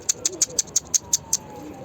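A tiny young pet bird, newly learning to feed, gives eight thin, high peeps in a quick, evenly spaced series, close and clear over a quiet background.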